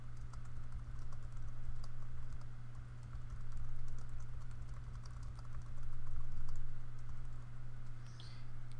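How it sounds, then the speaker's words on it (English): Keys clatter in an irregular run as someone types on a computer keyboard, fairly close, over a constant low electrical hum with no one speaking. "I can type out my assignment text"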